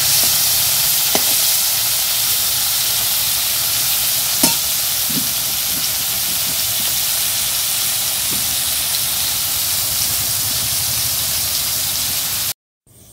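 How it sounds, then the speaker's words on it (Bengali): Pointed gourd (potol) slices fry in a pan, a loud continuous hiss and sizzle with occasional spatula scrapes and taps, then cutting off abruptly near the end. "এই যে দেখো পটল ভাজা হচ্ছে এখন"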